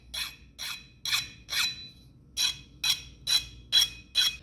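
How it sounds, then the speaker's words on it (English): A hand file rasps along the sharp edges of a 302 Ford short block, nine distinct back-and-forth strokes in a steady rhythm with a short pause midway, close and crisp with nothing else heard. "I take one of my files and I go and break all the sharp edges that I made."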